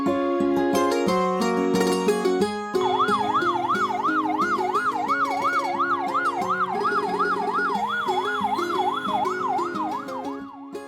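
A new fire tender of the Abohar municipal fire brigade sounds its siren, a loud electronic wail that shifts into fast, repeating up-and-down whoops lasting several seconds, with the vehicle's horn-like tones mixed in at the start.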